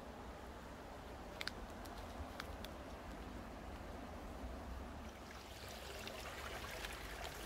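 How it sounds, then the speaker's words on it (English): Creek water flowing along a nature pathway, a faint continuous rushing and trickling that holds steady throughout with a few small clicks, no one speaking. "Creek just keeps on going."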